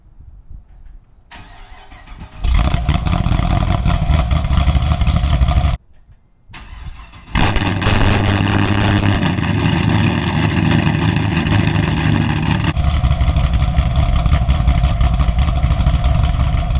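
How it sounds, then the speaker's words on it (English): A cammed Chevrolet Camaro SS V8 with stock exhaust cold-starts: it cranks and bursts into a loud, throaty roar, cuts out briefly, then fires back up into a steady, heavy rumbling idle close by. "So let's do this cold start."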